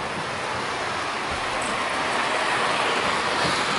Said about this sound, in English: you can see the trains do traverse in the looping motion to go around and around